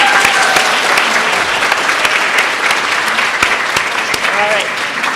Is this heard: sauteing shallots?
no